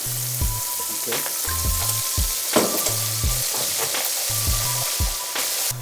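Blended onion and pepper sizzle and fry in a stew pot, a steady crackling hiss with occasional stirring clinks and scrapes.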